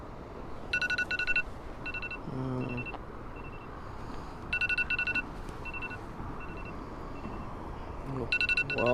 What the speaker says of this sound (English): I'm gonna set an alarm for 20 minutes